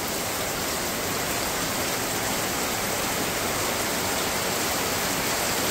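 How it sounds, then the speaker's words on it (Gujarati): Heavy rain drums steadily on a metal sheet roof, a dense, loud, continuous wash of hiss and patter with no break and no voices. "આ પતરા ઉપર છે એનો અવાજ કેટલો આવે છે વરસાદનો"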